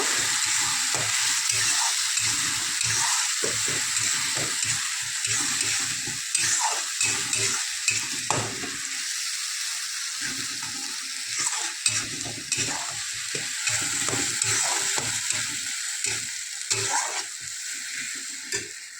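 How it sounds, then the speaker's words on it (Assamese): Masala paste for Assamese-style chicken ghugni, added after fried onions, sizzles and frys in a pan while a spoon stirs it with steady scraping strokes, close and continuous with no talk. "এইখিনি ভালদৰে ভাজি লওঁ।"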